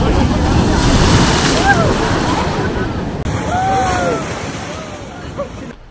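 Sea waves surge and splash against rocks at Anjuna Beach in Goa, a loud continuous rushing wash with heavy wind buffeting the microphone and faint voices in the distance.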